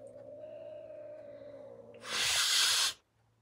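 A pet cat hisses once, a loud, harsh burst of breathy noise close by, lasting about a second after a steady low hum.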